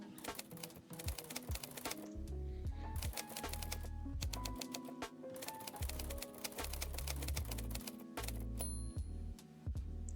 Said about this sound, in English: listen to the tippy tap of my keys